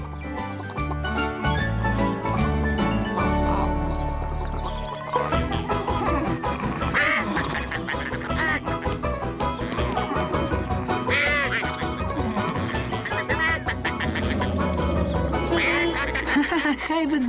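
Cartoon ducks quack in repeated bursts alongside jingling, tinkling effects and background music, with voices speaking throughout.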